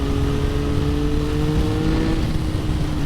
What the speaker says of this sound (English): Oh, it's such a punchy engine